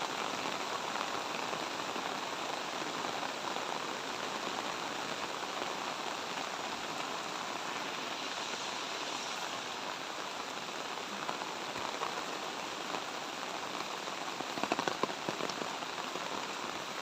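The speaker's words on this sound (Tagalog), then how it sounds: "Ngayon po kasi talagang makikita nyo malakas yung ulan." Heavy rain pours steadily on a farm lot with fruit trees and a water tank, a dense, continuous hiss with scattered louder drops, no voices.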